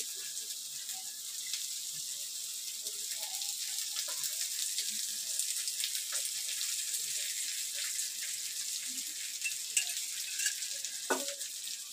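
Mandeli fish frying in oil, Malvani style, make a soft, continuous sizzle with scattered light pops and a clink or two of utensils, fairly faint and with no talk.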